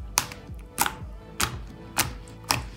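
Thick, dense homemade slime being squeezed gives five evenly spaced sharp clicks, about half a second apart, close and crisp with nobody talking.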